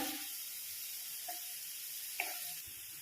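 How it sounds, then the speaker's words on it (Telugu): Chopped leafy greens dry-frying in a kadai with no oil, a steady soft sizzle and hiss close by with a couple of faint stirring scrapes. "ఇందులో నేను ఆయిల్ కూడా ఏమి వేయట్లేదు ఒట్టిగా డైరెక్ట్గానే ఫ్రై చేస్తున్నాను అనమాట"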